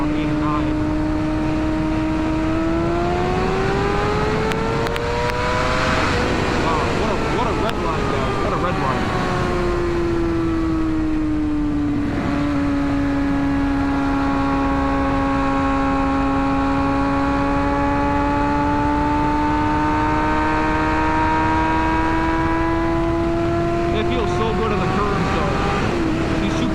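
A 2007 Kawasaki Ninja ZX6R engine revs up and shifts early at lower rpm while riding, its pitch climbing and dropping through several gear changes, loud and steady over about half a minute of continuous engine noise.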